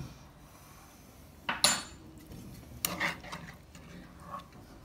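Spoon stirring and clinking against a bowl while sugar, white vinegar and tomato sauce are mixed, with a few sharp scrapes and taps over a quiet background.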